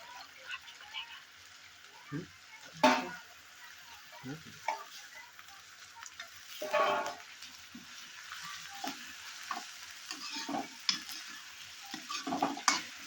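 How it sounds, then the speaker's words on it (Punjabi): Ginger, onion, tomato and green coriander tadka for sarson da saag frying in a pan, with a soft steady sizzle broken by intermittent stirring scrapes and clinks, fairly quiet and close. "ਵਧੀਆ ਤੜਕਾ ਤਿਆਰ ਹੋ ਰਿਹਾ ਹੈ ਜਿਸ ਦੇ ਵਿੱਚ ਅਦਰਕ ਪਿਆਜ਼ ਟਮਾਟਰ ਔਰ ਹਰੀ ਧਨੀਆ ਦਾ ਮਿਕਸਚਰ"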